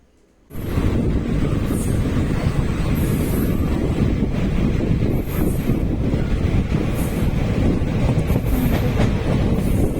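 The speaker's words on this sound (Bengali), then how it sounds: "এখন আমাদের ট্রেনটিও ছেড়ে দিয়েছে রামপুরহাটের উদ্দেশ্যে।" Passenger train running toward Rampurhat, recorded from on board: a loud, steady rumble of wheels on rails with wind buffeting the microphone and faint clatter throughout.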